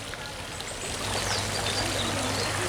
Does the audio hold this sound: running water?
yes